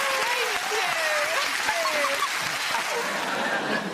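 A studio audience on a television chat show applauds loudly and continuously, with a few voices and chuckles audible through the clapping.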